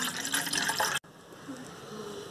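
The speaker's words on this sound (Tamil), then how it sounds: "இப்போ இன்னொரு கப் பாலில் 1/2 கப் பால் ஊற்றிக்கலாம்." Milk pours into a cup in a home kitchen, a brief, fairly loud liquid splash and fill that cuts off sharply, followed by quieter room noise.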